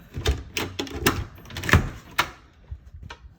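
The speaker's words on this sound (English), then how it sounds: "This is a door that goes to some stairs that leads to" A door in a house hallway leading to a blocked-off stairway, opened with several close clicks, knocks and scrapes of latch and wood in an irregular sequence, no voices.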